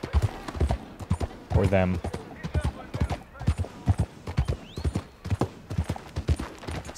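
Horse hooves clip-clop at a steady trot in Red Dead Redemption 2, close and distinct, mixed with talk from several voices throughout.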